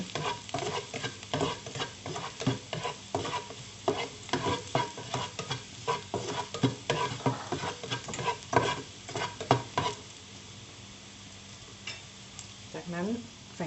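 Garlic stir-fried in a pan over medium heat, with a quiet sizzle under frequent rhythmic scraping and clattering of a utensil against the pan.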